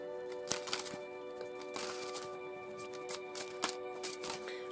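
Deviant Moon Tarot cards being shuffled by hand, a quiet run of soft riffling slaps and crisp card snaps in an irregular rhythm, heard close and alone.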